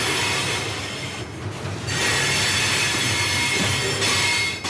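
A freight train rolls on with loud, continuous wheel squeal and rumbling, ringing steel. The noise is close and dense and surges in bursts with brief dips, and no one speaks.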